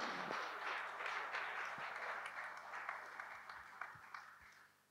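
Audience applause in a conference hall, a steady dense wash of many hands clapping that carries on throughout and thins slightly toward the end, with no talk over it.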